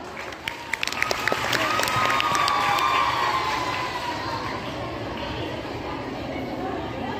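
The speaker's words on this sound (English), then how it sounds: "Give a big round of applause" A school audience at a Teacher's Day event claps and cheers for dancers about to perform, a busy wash of clapping with scattered shouts from girls, building early and then easing slightly.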